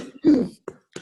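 A single harsh throat-clearing cough from a woman, close and fairly loud, followed by two short faint breathy bursts in a quiet room.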